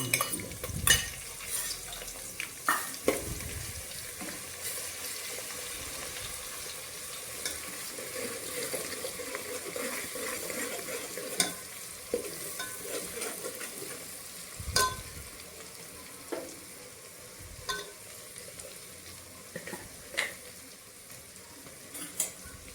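Green garlic, chopped green chilies and ginger-chili paste fry in a pan for Kathiyawadi tawo undhiyu, a soft continuous sizzle punctuated by repeated scrapes and clinks of a spoon stirring against the metal.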